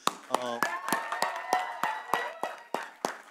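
Clapping from the audience at the 23rd Zee Cine Awards 2025 press conference with two film stars, heard as a run of sharp, evenly spaced handclaps under a voice that is talking.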